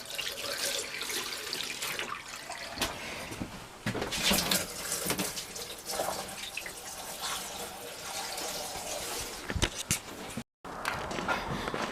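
Leftover antifreeze is poured down the drains of a Forest River Surveyor Legend 252 RBLE travel trailer, a steady close splashing and gurgling of liquid into a sink with a few bumps and knocks.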